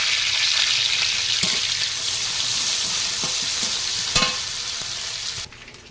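Panch phoron spices fry in hot oil in a pan for a katla fish-head curry, a loud continuous sizzle with occasional stirring clicks, dropping suddenly quieter near the end, no talking.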